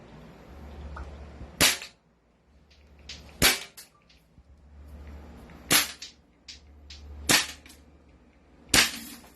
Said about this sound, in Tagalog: ubusin mo yung bala sir. Hanggang maubos yung bala.